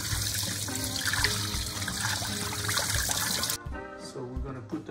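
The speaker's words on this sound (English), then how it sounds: "The first thing we do is you gotta wash the rice." Cold tap water runs steadily into a pot as rice is washed, a close, continuous splashing stream that cuts off abruptly near the end, leaving quieter kitchen handling sounds.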